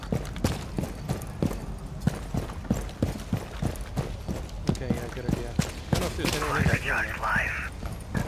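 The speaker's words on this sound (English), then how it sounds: "There's somebody shooting at me." Gunfire from the Rainbow Six Siege video game, played on the Consulate map, comes as a long run of sharp repeated shots with uneven spacing, fairly close and loud, over in-game clatter.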